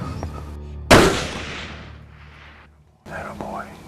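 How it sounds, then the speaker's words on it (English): A single loud rifle shot fired while hunting, a sharp blast followed by a long rolling echo that fades over about two seconds, with quiet voices murmuring before it and again afterward. "Squeeze the trigger. There comes the shot right there."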